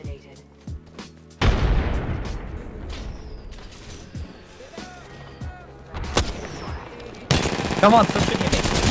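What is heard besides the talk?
gunfire in the video game Apex Legends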